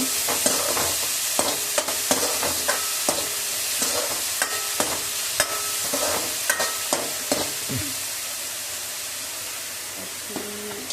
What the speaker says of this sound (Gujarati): આ પણ નાખીને મસ્ત રીતે હલાવી દેવાનું છે.